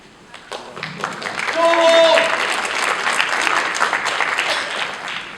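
Audience at a high school winter concert applauding a choir, a dense wash of clapping that swells and holds, with voices and a short whistle mixed in.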